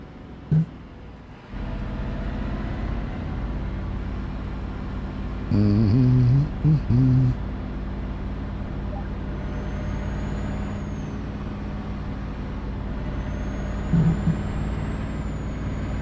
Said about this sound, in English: Sounds of the turbo though. That's what you get for a Scania